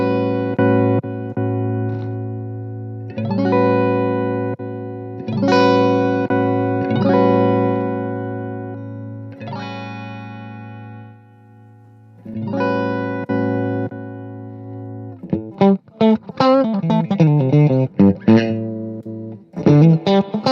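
Electric guitar played through a Mercury edition reverb pedal, with sustained ringing chords washed in lush reverb and decaying tails, followed by a faster run of picked notes near the end; no talking.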